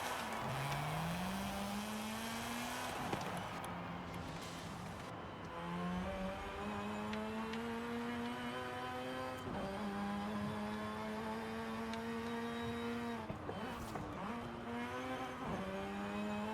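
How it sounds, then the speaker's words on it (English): A Mazda RX-7 FD Spirit R rotary engine in Forza Horizon 5 revs loud and close, climbing through gears with smooth buzzing pitch rises, brief shift dips and crackling lifts, sustained for the whole stretch with no voices. "let me give you a little sound clip of this rotary"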